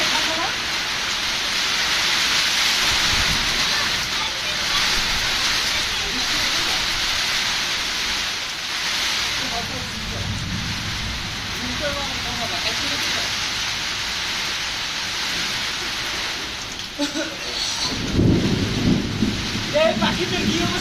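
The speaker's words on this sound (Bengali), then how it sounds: "দেখেন প্রচুর পরিমাণে বৃষ্টি হচ্ছে।" Heavy rain pouring steadily with low rumbles of thunder, a dense loud wash that lasts throughout, with indistinct voices and a louder rumble near the end.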